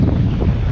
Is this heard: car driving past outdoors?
no